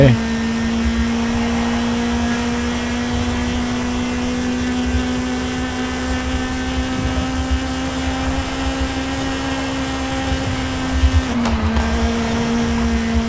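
A 2007 Honda Civic Type R engine drones at high revs with VTEC engaged, holding a constant pitch, then dropping slightly near the end, with a voice talking faintly under it.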